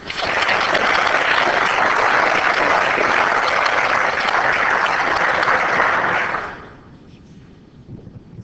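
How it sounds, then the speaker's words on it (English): Audience applause fills a city council meeting in Oceanside, steady and loud for about six seconds, celebrating a police officer with the Oceanside Police Department, then cutting off abruptly into quiet room tone. "Let's help John celebrate with a round of applause."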